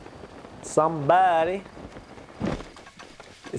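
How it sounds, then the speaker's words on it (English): Rain falls in a video game, a steady pattering hiss running underneath a voice that breaks into a drawn-out word midway. "is it raining? Why is it raining?"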